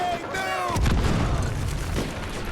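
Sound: grenade explosion in video game Delta Force: Black Hawk Down

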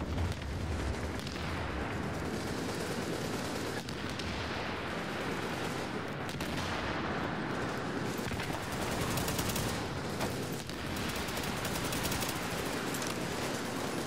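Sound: gunfire in the video game The Division 2

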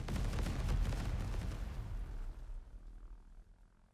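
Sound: aircraft dropping small bombs in WW1 video game Over The Top

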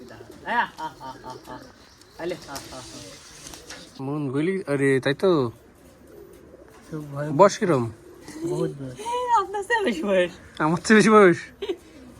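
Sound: pigeons cooing at a Giribaj pigeon farm

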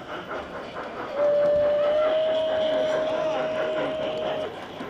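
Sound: model railway train running

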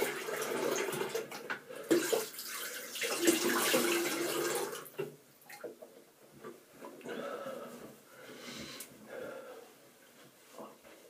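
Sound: rinsing face with clean running water

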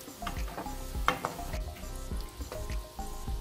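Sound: eggplant cheese balls deep-frying in oil

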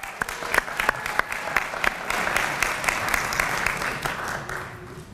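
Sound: audience applause

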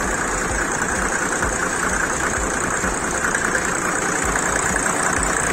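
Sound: car engine idling smoothly

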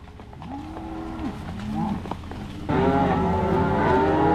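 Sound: cattle mooing while being herded

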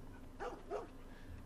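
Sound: dog barking in the video game The Last of Us Part 1

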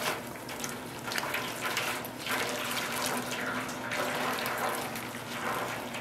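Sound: water running in sink, washing hand-dyed yarn

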